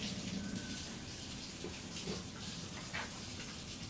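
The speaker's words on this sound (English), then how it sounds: "So now, gonna wash the old hands." Steady hiss of water running from a kitchen tap while hands are washed, constant and faint throughout with slight splashing variations.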